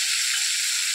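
Panch phoron spices crackling in hot oil at the start of cooking a koi fish curry, a steady, bright, close sizzle that holds even and unbroken for the whole second with no voices.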